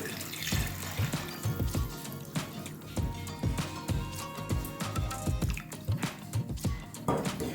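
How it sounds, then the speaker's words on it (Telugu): Water is poured from cups into a cooking pot for vegetable khichdi, giving close splashing and gurgling sounds that come in repeated bursts over several seconds with no talking. "రెండు ఆరు కప్పులు నీళ్ళు ఇక్కడ తీసి పెట్టుకున్నాను నేను అది ఇక్కడ వేసేసాను చూడండి"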